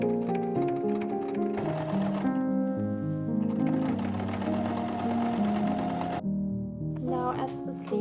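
A sewing machine runs steadily along the folded skirt hem of a 1940s-style summer dress, a continuous close whirring that briefly pauses, heard over tuneful background music.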